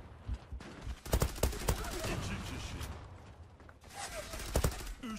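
Gunfire in the online shooter Zula comes as quick clusters of sharp shots and short bursts, fairly faint, with a voice speaking between volleys.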